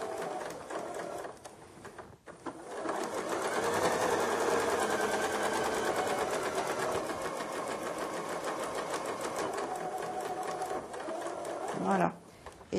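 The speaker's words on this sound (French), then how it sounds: "je vais piquer à une valeur de pied presseur" A domestic sewing machine stitches a side-pocket seam in easy-to-sew fabric, running as a steady, close mechanical whir for about ten seconds before stopping.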